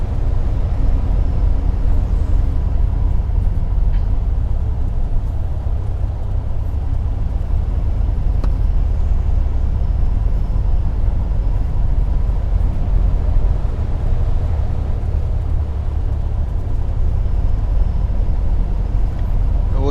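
A Cessna 172 piston engine idles while taxiing in Microsoft Flight Simulator 2020, holding a constant low drone and rumble throughout with no pauses.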